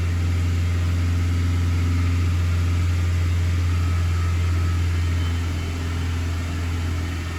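An engine being diagnosed for a persistent EGR fault runs at a steady idle, a loud low drone with a constant hum close by that eases slightly near the end.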